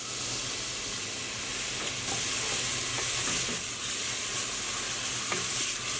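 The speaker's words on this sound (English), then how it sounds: "Once your oil's hot, we're going to add our onion straight in." Onion sizzling in hot olive oil in a pot, a steady close frying hiss with occasional soft stirring sounds and no talking.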